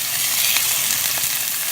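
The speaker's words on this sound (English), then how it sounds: "Now you're gonna want to go ahead and lay your chicken in there. Should hear a good sizzling." Chicken fries in olive oil in a pan, a loud, steady, close sizzle with a faint stirring sound.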